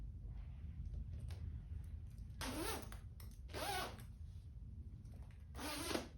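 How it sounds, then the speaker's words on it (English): A double-ended zipper on a Weatherwool jacket is zipped in three short, crisp rasping pulls separated by pauses, heard close up and alone over a low background hum. "this zipper is also double-ended"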